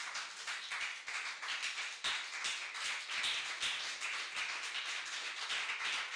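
A church congregation clapping in acclamation during a worship service, a brisk run of many hands clapping together, fairly distant and moderately soft, with no talk over it.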